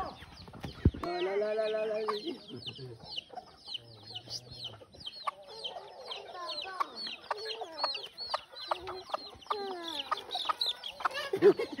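Several chickens cluck repeatedly up close in a yard, busy overlapping chatter with a brief louder burst early on, and people talk now and then.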